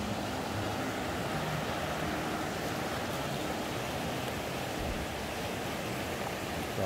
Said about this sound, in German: Da der Bach.